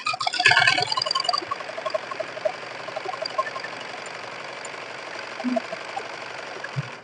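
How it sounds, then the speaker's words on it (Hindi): A sewing machine top-stitching a blouse gives a brief louder clatter at the start, then settles into a steady, close mechanical whir with soft rhythmic ticking that runs on evenly to the end, with no voices. "तो देखिए इस तरह से हमने टप सिलाई भी लगा ली है।"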